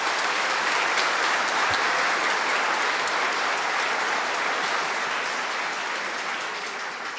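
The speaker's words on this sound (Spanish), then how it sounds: "Denles nomás aplauso, denles aplauso." A Catholic congregation at Sunday Mass applauds a couple, sustained dense clapping filling the church for several seconds at an even level before tapering slightly toward the end.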